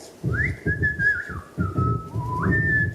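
A person whistles an imitation of a blackbird's song, a steady run of sliding, warbling phrases with a brief break partway, close and clear, alone without speech.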